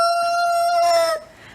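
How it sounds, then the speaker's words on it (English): A rooster living in a Florida fruit tree forest crows once, close and loud, with a bright sustained call that cuts off abruptly, leaving faint background ambience. "We also have a rooster that decided he likes this fruit forest as his permanent home."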